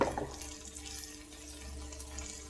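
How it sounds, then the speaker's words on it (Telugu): Water pours into a spiny gourd curry cooking in a pan, a soft steady splashing rush with a brief louder onset. "కారం వేసేసి కాస్త నీళ్ళు వేస్తే సరిపోద్ది"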